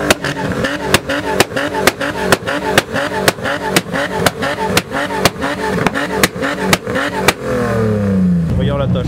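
A car engine revs in a quick, steady series of pulses, each with a sharp crack from the flame-spitting exhaust. The popping stops near the end, leaving a lower, smoother rumble.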